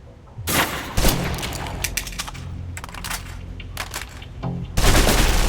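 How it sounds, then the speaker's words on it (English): Bursts of gunfire aimed at a target on a training range in Alpha Protocol, several sharp, loud volleys separated by short pauses, close and fairly dry. "Still using cover, take some shots at the target."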